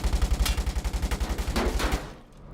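Rapid bursts of automatic gunfire in the video game War Tycoon, a steady rattling stream of shots for about two seconds, then an abrupt stop into near quiet.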